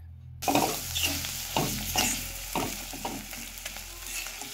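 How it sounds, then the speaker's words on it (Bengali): Ground spices for chicken kosha fry in a pan with a steady sizzle, broken by repeated scraping strokes of a spatula roughly once a second, close and fairly quiet. "সমস্ত গুঁড়ো মশলা দিয়ে আমি কষিয়ে নিচ্ছি"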